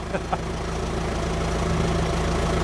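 A John Deere dozer's diesel engine catches after a couple of brief starter bursts, then settles into a steady, loud, droning idle that carries on close by without a break.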